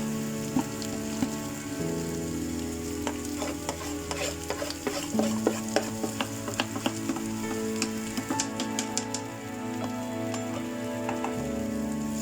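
Potatoes and spices fry in a pan while a spoon stirs and scrapes repeatedly, with crisp sizzling crackles over a low steady hum, close and alone without talk.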